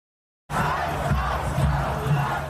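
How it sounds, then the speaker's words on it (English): A massive crowd of anti-ICE protesters fills downtown Minneapolis in brutal cold, a dense roar of many voices shouting and chanting that swells in after a brief silence and stays loud and continuous. "a massive crowd of anti-ICE protesters flooding downtown Minneapolis"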